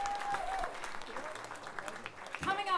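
An audience applauds at the Reservoir Stomp 2016 live music event. The clapping is steady and moderately loud and continues under a voice speaking over it.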